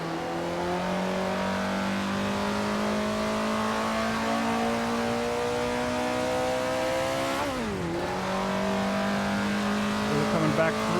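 Engine of a 1930s Maserati race car driven at historic Monza in the Assetto Corsa racing game, a steady loud drone rising in pitch for several seconds, briefly dropping as revs fall, then climbing again, with a voice talking over it.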